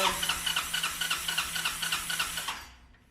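A 1986 Honda Helix CN250 scooter engine cranks over with its ignition coil unplugged, a steady rapid rhythmic chugging of the starter that stops abruptly near the end, leaving a brief fading hiss.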